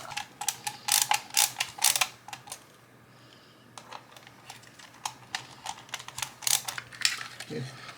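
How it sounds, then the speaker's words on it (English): Screws being driven by hand into the plastic parts of a K-2SO animated droid head kit during assembly, a series of close ratcheting, clicking mechanical bursts with brief pauses between turns. "I'll just screw these in."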